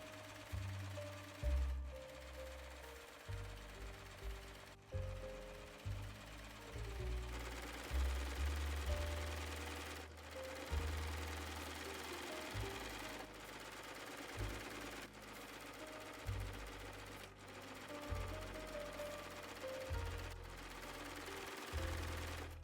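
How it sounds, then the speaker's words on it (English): A serger overlocker stitches a fabric neckline seam in repeated bursts, rapid mechanical chattering runs that start and stop every second or two, close and fairly quiet. "I'm going to be using a serger"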